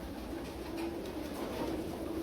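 A pigeon coos softly in a quiet indoor setting, with faint low murmuring calls barely rising above a steady background hiss and no speech.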